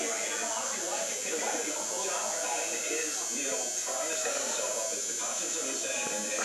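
An electric toothbrush gives off a steady, high-pitched buzz that carries on without a break, and a big black cat named Hopper is nearby in a home while people talk softly over the sound.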